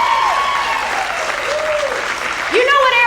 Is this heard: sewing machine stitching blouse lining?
no